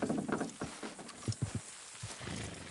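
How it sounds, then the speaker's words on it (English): Horses straining to haul something down in Red Dead Redemption 2, with hooves thudding and clopping in irregular bursts, loud and close, over a dense rumbling background. "Horses will pull it clean down"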